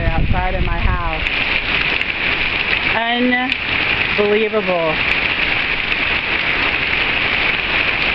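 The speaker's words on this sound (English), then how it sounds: "how the rain is bouncing right off the roof" Heavy rain pours down onto a house roof and the street outside in a desert region, a dense, continuous wash of spatter that lasts throughout, while someone speaks briefly over it.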